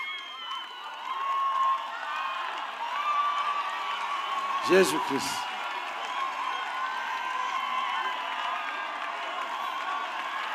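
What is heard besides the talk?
crowd cheering and clapping for Jesus at a church healing service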